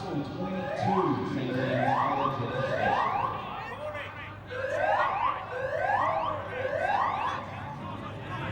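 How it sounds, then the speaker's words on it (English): A fire alarm at Toyota Stadium during a school rugby league match repeats rising electronic whoops in a regular rhythm, with a brief gap between two runs, while a commentator talks over it. "we've got a fire alarm here at Toyota Stadium"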